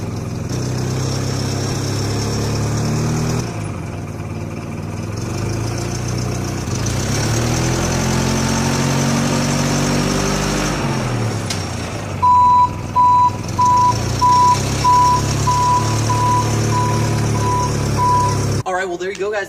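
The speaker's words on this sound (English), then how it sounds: "let's finally do one last overlook on how to actually put this in drive and drive it forward" A standard forklift running with its engine idling and rumbling, then a steady repeating reversing-style beep joins as it moves, with a person talking over the machine noise.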